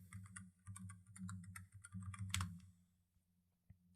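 Rapid clicking keystrokes on a computer keyboard come in quick bursts with short pauses, close and fairly quiet, ending in a couple of isolated taps.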